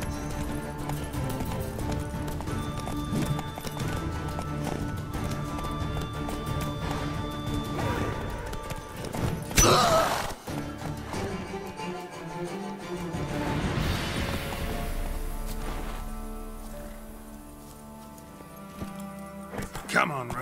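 Hooves of Roach, the horse in The Witcher 3: Wild Hunt, clip-clop steadily at a gallop under continuous game music and ambience, with a sharp crash near the middle and a voice speaking over it.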